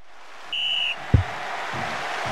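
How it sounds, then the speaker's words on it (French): A referee's whistle in the PS1 football game Ronaldo V-Football gives one bright steady blast of about half a second over crowd ambience, followed by a short thump. "l'arbitre a sifflé le début de la seconde mi-temps"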